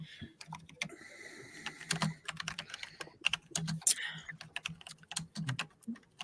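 Fast, clicky computer keyboard typing in irregular bursts, close and fairly quiet, with faint voices in the background.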